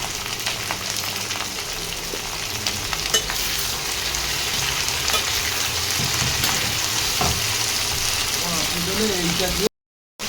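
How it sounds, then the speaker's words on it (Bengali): Chopped onions fry in hot oil in a pan, a loud, continuous sizzle and crackle that holds steady for about ten seconds, with occasional stirring scrapes, then cuts off abruptly near the end. "পেঁয়াজটাকে একটু লাল লাল করে ভাজতে হবে।"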